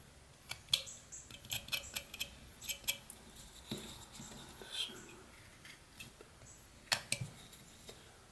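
A whittling knife makes small stop cuts on a carved wooden 28mm miniature gnome, giving quiet, irregular clicks and scrapes spread across the stretch, close and faint against soft room noise.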